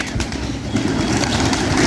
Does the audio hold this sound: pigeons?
yes